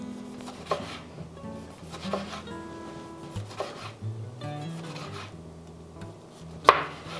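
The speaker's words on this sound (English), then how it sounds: "So wonderful chopped up lemons" Lemons chopped with a knife on a cutting board, a series of irregular close thuds and scraping slices, fairly quiet, with a sharper knock near the end.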